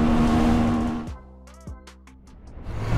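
A Honda Sahara 300 Adventure motorcycle engine roars loudly up close, drops off, gives a couple of sharp throttle blips with rising pitch, idles lower, then climbs again.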